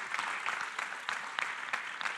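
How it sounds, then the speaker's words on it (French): Light applause from a conference audience at a young engineers' event, a steady spatter of claps at moderate distance, fairly faint throughout with no voices. "Je vous propose d'applaudir et de remercier nos intervenants"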